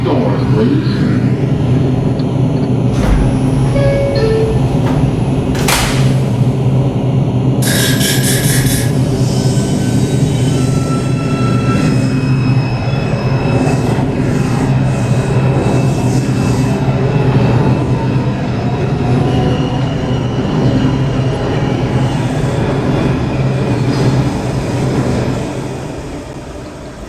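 An MTA R142 subway car on the Manhattan-bound 5 line rides along the IRT mainline, a constant loud rumble of wheels and motors with squeals, clanks and a brief chime, heard from inside the car as it slows near the end.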